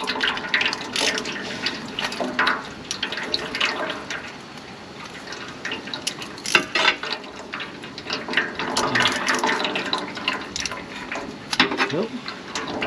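Engine oil draining from a Chevrolet Suburban during an oil change, a steady close splashing pour of liquid with occasional louder spatters, with a voice talking over it.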